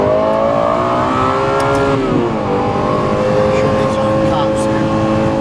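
A Lexus LFA V10 supercar engine revs loudly from inside the car, its high-pitched wail rising and dipping as it shifts and accelerates, while a person talks over it.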